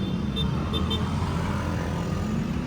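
A Lamborghini car drives with a continuous low engine and road rumble, steady and close, with no other sounds standing out.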